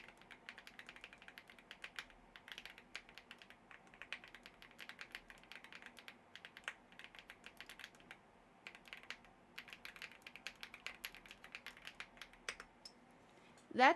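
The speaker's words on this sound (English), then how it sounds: "Because I don't want to annoy you guys with my keyboard." Quiet, rapid typing on a computer keyboard during a game stream, with crisp key clicks in bursts and short pauses, faint and close, ending with a brief louder knock.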